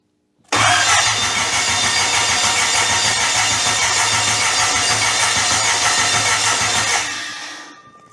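A K24 four-cylinder engine swapped into a Mustang cranks on the starter without firing, a steady, loud, close, buzzing whir for about six and a half seconds that then winds down.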